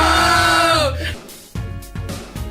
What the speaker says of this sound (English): And that noise was actually, believe it or not, it was us screaming